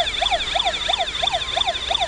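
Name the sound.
child imitating a police car siren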